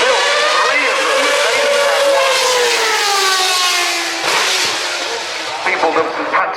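A racing car's engine at the Goodwood Festival of Speed hill climb, Jensen Button driving one of only three chassis built, howls loud and close with rising and falling revs while a commentator talks over it.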